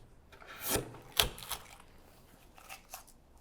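A slick pares wood inside a through mortise being cut with a drill, giving a few faint, short scraping strokes spaced apart in a quiet room.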